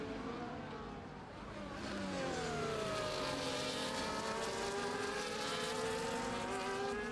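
Race cars roar through a race in Austin, USA, a loud continuous engine drone with rising pitch as the cars accelerate, heard at moderate distance with no talk over it.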